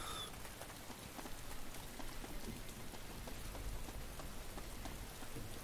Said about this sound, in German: Es regnet. Dreckswetter, ey.